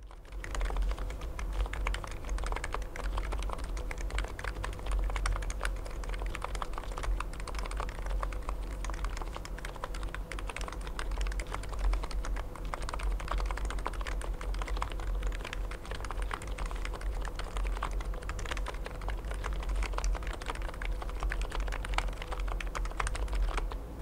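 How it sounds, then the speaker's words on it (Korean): Continuous typing on an electrostatic capacitive keyboard (Akko E1 Pro Max), a steady, soft clatter of keys pressed in quick succession, fairly quiet and unaccompanied by voices. "당시 제가 반했던 무접점 키보드 특유의 타건감과 사운드 지금 들려드릴게요."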